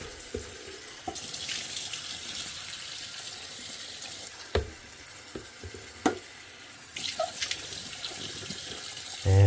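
Water is poured out of a small ultrasonic jewelry and eyeglass cleaner tank and the tank is rinsed, giving a steady splashing stream with a few clunks of the tank against a sink, heard close and fairly quiet.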